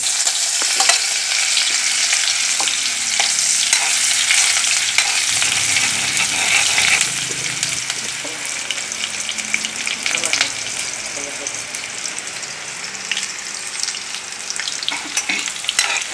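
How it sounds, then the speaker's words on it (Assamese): Steady, dense sizzling of eggs frying in hot oil, with occasional crackles and pops, continuous and close throughout. "ডিমটো ভাজি ফ্ৰাই কৰি লোৱা হ'ল"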